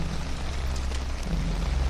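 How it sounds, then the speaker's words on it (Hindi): Steady rain falls as a dense, even hiss with a low rumbling undertone in an animated Hindi horror story set in rural Dumka during rice planting, continuous and fairly loud without any voices. "नरेंद्र चाचा ने कहा, अगर ऐसे ही बारिश होती रही तो धान की रोपनी अच्छी हो जाएगी"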